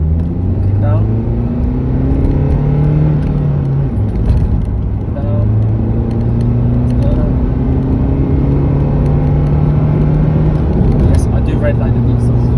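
A Renault Megane diesel car accelerates on kick-down, with the engine drone rising in pitch through several gear-like steps, heard from inside the cabin. A person talks over it.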